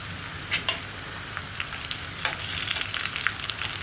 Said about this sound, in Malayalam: ഇപ്പോൾ നമ്മുടെ കടുക് പൊട്ടിക്കൊണ്ടിരിക്കുന്നുണ്ട്